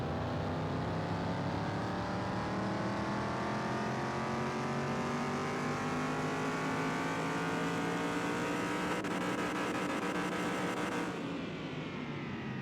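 Simulated car engine on a dyno in Car Mechanic Simulator 2021, revving in one long sustained pull with pitch climbing steadily for about eleven seconds before abruptly dropping off.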